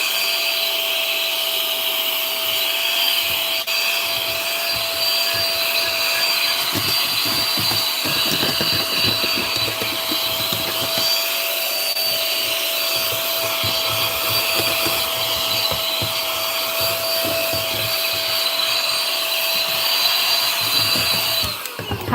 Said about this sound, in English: now I got to vacuum this up